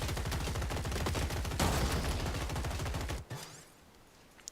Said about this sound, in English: And now my machine gun, what it's going to do is move in and try to grab that resource